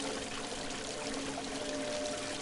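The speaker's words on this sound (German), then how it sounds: "Das Wasser wird verschwendet. Ich muss den Fluss stoppen." Steady water pouring and trickling from a broken pipe in the puzzle game Christmas Stories: The Nutcracker, a continuous close splashing flow with no speech.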